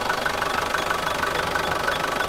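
A 2015 Mahindra Xylo engine idles steadily and close by, a continuous mid-pitched hum with a faint knocking pulse and no voices.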